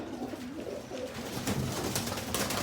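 Several pigeons, including shah-eyed birds, coo steadily and close by in a quiet outdoor setting on a cloudy, rainy day.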